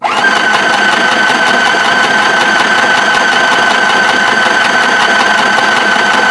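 Mini sewing machine, foot-pedal operated but held in the hand here, running steadily with a loud, close, continuous motor whir and rapid needle chatter from start to finish.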